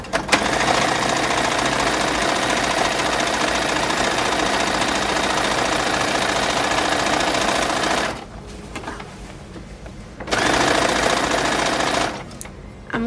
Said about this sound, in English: I'm going to stitch it right down the middle.